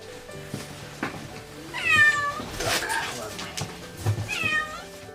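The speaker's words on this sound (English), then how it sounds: "The rescuers in St. Petersburg, Russia, rushed to help a cat that somehow had got stuck in a car wheel" A cat stuck in a car wheel in St. Petersburg, Russia, gives several loud, drawn-out distressed meows, with background noise and voices around it.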